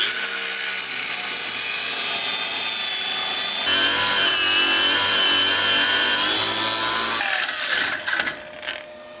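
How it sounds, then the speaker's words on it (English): An angle grinder cuts metal during custom fabrication of a steering box for a 1941 Mercury: a loud, steady, high whine runs for about seven seconds, then stops, followed by a few clanks and rattles as the part is handled. "so let me get the grinder. I'm gonna nip this and nip this."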